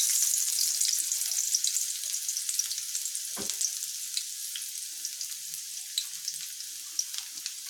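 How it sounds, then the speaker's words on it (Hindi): Garlic frying in hot oil in a kadai: a steady, bright crackling sizzle with fine pops, close and continuous, and one soft thud partway through. "सबसे पहले तेल गरम करेंगे इसे कढ़ाई में, फिर उसमें गार्लिक डालेंगे।"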